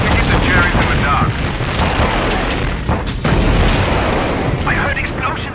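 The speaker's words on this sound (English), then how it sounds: "I heard explosions behind me." Dense rumbling booms and blasts roll on continuously, a loud wash of explosions in the PS2 game Secret Weapons Over Normandy, with voices talking over the chaos.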